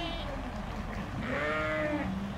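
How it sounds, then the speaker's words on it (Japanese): Sheep on a New Zealand farm let out several wavering bleats at close to mid range, set against steady outdoor ambience with some voices in the background. "羊は本当に目って鳴くんですね。"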